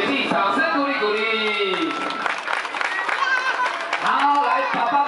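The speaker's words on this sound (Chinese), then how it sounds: "给自己掌声鼓励鼓励。" Children at a kindergarten parent-child year-end party clap for themselves, producing a brisk, close patter of many small hands, with young voices calling out over it throughout.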